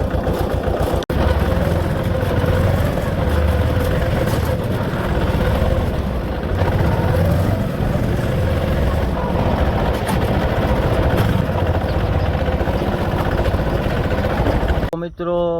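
A tractor engine runs steadily and close by, a constant loud rumble that continues unbroken for the whole stretch while heading out to a farm field, cutting off abruptly at the end.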